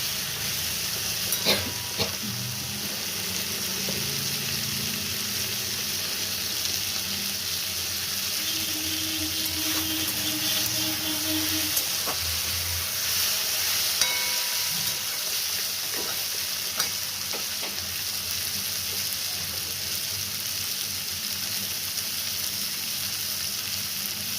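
Potato curry with tomato and green chilli fries in a pan, a steady low sizzle running throughout, broken by occasional clinks and scraping stirs and a few brief knocks.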